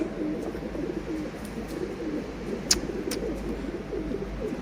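Pigeons coo in low, throaty murmurs nearby, one with a broken wing, a soft continuous warble with a few sharp clicks and rustles mixed in.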